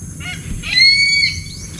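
A pet bird named Bagwis gives a short, clear, sustained call lasting about half a second, close and fairly loud against faint low background noise.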